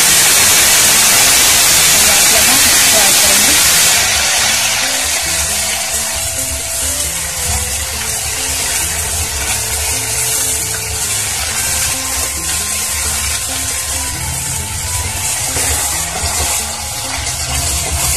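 Onion-garlic paste with black pepper sizzles in a hot pan, a steady broadband frying hiss that runs the whole time and is loudest in the first few seconds, while cooking a restaurant-style Bengali taro-root (ghuiya) dish.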